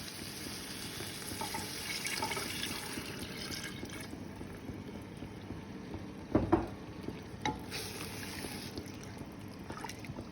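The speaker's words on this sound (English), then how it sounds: "And then add coconut milk." Coconut milk is poured into beef rendang cooking in a pan, a soft steady liquid rush with faint bubbling, quiet and close, with a couple of brief knocks near the middle.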